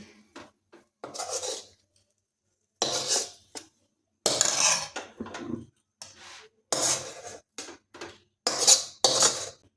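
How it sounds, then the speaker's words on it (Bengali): Thick sandesh made from chhena and nolen gur is scraped and poured from a pan onto a ghee-greased plate. Close, loud metallic scraping and clinking comes in irregular bursts separated by short silences. "এখন এই ঘি মাখানো থালাতে সন্দেশটা ঢেলে দিচ্ছি।"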